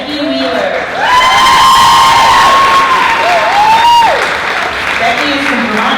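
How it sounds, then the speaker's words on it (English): Pageant audience at a wheelchair pageant speech night breaks into loud, sustained applause with whoops and cheers, a swelling wall of clapping that holds steady throughout. "let's give a big round of applause"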